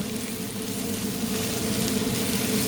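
Celery and other borscht vegetables sautéing slowly in oil in a pan, giving a steady, soft, continuous sizzle with no voices.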